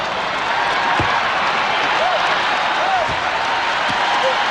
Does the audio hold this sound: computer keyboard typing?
no